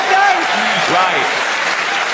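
Steady, fairly loud audience applause at a stand-up comedy show fills the whole stretch, with a voice talking over it.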